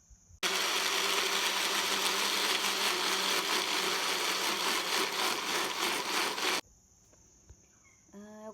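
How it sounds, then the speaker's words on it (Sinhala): An electric blender whirs loudly and steadily for about six seconds, churning bananas with fresh milk into pancake batter, then cuts off abruptly, leaving a quiet kitchen with a faint high hum. "ඊට පස්සේ අපි මේක හොඳට බ්ලෙන්ඩ් කරගන්න ඕන"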